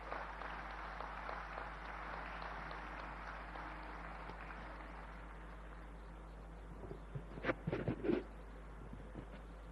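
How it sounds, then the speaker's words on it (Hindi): A faint, steady patter of audience applause welcomes a speaker at the 125th Founder's Day programme of The Scindia School. The sound is distant and low, continuing for about seven seconds before a few sharper claps stand out and the clapping tapers off. "तालियों से स्वागत करें श्रीमान ज्योतिरादित्य सिंधिया जी का।"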